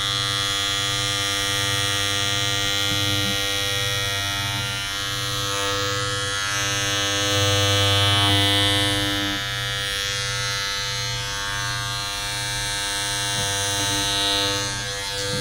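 A steady, close electric hair clipper buzz drones throughout, its pitch and loudness shifting slightly as it moves.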